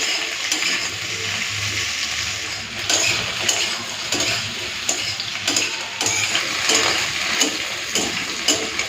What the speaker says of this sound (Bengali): ঢেঁড়সটা দিয়ে দিয়েছি এরপরে আলুর সাথে আমি করে লাল করে ভেজে নেব